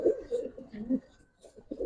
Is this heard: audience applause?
no